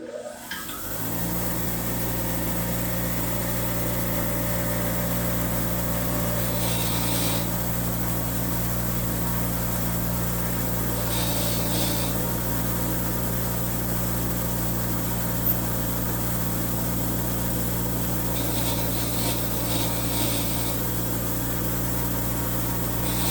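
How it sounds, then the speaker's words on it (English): A bench-mounted wire wheel spins with a steady, continuous whir while cleaning old rusty bolts for a Farmall Cub tractor rebuild, the grinding scrape swelling briefly a few times as bolts are pressed against the brush. "we're going to take these over on the wire wheel and clean these up"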